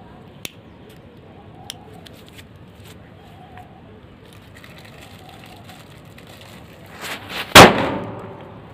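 A lit Diwali firecracker bursts once with a sharp, loud crack near the end, after a stretch of quiet hissing and faint ticks from the burning fuse.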